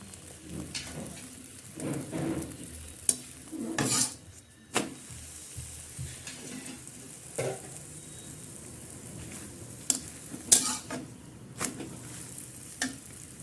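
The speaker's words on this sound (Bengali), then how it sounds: "তো এবার পরোটাগুলো ভাজবো" Maida paratha flatbreads frying in a pan at home, a steady sizzle with scattered stirring scrapes and pops, close and moderately loud, with no talk.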